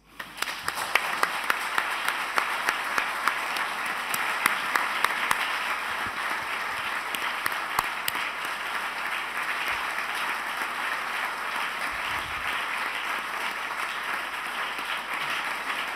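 An indoor audience at a talk gives sustained applause, dense steady clapping that holds loud and even for about sixteen seconds with no speech over it.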